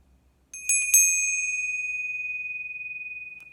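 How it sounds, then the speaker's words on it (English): An Asian meditation bell, used alongside a dorje, is struck twice in quick succession, then rings out as a clear, sustained tone that slowly fades over several seconds in a quiet room. "the first device is an Asian device. And it's a bell and a dorji."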